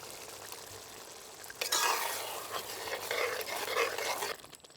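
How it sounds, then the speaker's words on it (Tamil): Tamarind extract poured into boiling masala for a dry fish and brinjal thokku: a sudden loud hiss and bubbling sizzle bursts up from a quiet simmer, holds for a few seconds, then fades. "இப்போ புளிக்கரைசல் சேர்த்துக்கலாம்."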